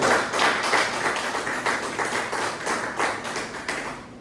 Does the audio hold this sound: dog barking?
no